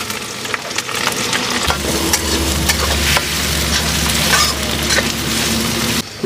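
Onions and garlic sizzle and fry steadily in a hot pan for a desi-style mutton curry, with occasional stirring scrapes over a continuous loud crackle and a low hum underneath.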